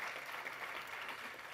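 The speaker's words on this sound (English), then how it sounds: "So let's give her a big round of applause as well." An audience at the 2023 Poinsettia Awards ceremony gives a steady round of applause, a dense wash of many hands clapping that stays even and moderately loud throughout, heard alone without talk.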